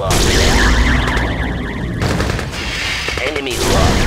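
Sustained automatic machine gun fire from a unit in Red Alert 2: Yuri's Revenge, loud and dense, rattling continuously with explosive booms mixed in throughout.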